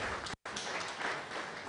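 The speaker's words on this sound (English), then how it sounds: "A round of applause to the president and his able executives" Audience applause at a forestry department event, a dense, steady wash of many hands clapping that drops out briefly for a split second before resuming at full strength.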